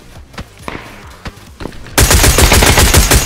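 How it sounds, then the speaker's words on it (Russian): Video-game gunfire in PUBG: a few sharp separate shots, then a dense, loud burst of rapid automatic fire that fills the last second and a half. "По нему стреляют, блин."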